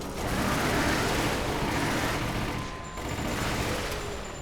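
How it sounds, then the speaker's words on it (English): Sustained machine gun fire in a Resident Evil game pours out as a dense, unbroken roar of rapid shots, loud and close for the whole stretch. "But this machine gun that I have, it's insane. Like, this thing melts everything."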